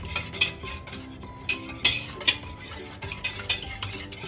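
Batter being stirred in a bowl for a homemade cake, a spoon or whisk clinking and scraping against the sides in quick, uneven strokes, close and fairly loud, with no talk.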